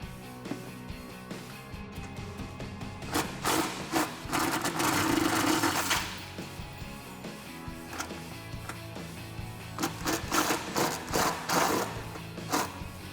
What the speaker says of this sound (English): remove the 2 bolts that hold the bumper to the frame on the driver's side here